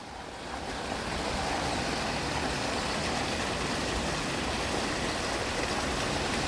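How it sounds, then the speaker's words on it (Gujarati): Irrigation water running into a marigold field during rain, heard as a steady, close rushing wash of water that swells in after a moment and continues evenly, with no talking. "ગલગોટામાં પાણી ચાલુ છે"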